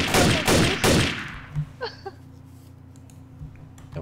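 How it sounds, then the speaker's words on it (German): Gunfire in Garry's Mod's Trouble in Terrorist Town mode: three loud, close bursts of rapid shots in the first second or so, followed by a quieter stretch of faint ticks and clicks. "Irgendeiner schießt auf mich."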